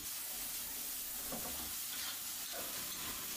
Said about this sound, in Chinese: 宽油下锅，与红辣椒一起爆炒